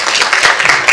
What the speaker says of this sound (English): You can give him a round of applause at this time.